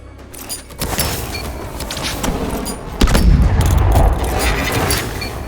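Grenades detonate in Call of Duty: Advanced Warfare training as booming blasts and rumbling impacts, loud and dense, with a heavy explosion about midway that swells the noise.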